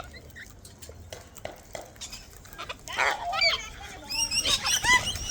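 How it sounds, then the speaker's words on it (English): A flock of wild cockatoos calls in a harsh, repeated chorus that swells louder toward the end, mixed with rustling and small clattering sounds nearby. "Crowd of birds."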